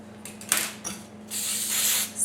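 Hairspray is misted onto teased sections of hair while an updo is styled. A few short puffs come first, then one long sustained spray and a final quick burst, all close and crisp with no voices.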